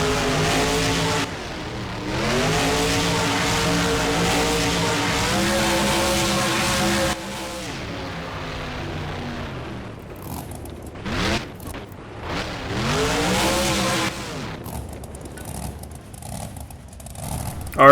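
Monster trucks, including Gravedigger and Bakugan Dragonoid, race in BeamNG in an Arlington stadium, their engines roaring and revving in long sustained pulls, then dropping into choppier bursts of throttle and shifting pitch near the end.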